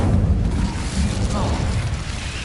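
Incendio fire spell cast in Hogwarts Legacy, a loud, sustained low rumbling burst of flame that roars steadily for a couple of seconds, with a voice faintly underneath.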